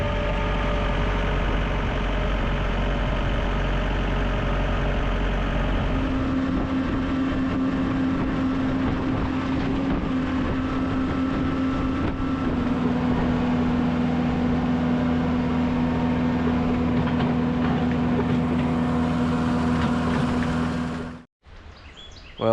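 A tractor engine drones steadily and close while riding, a low rumbling hum with a faint higher tone settling in partway through, running unbroken until it suddenly drops out near the end.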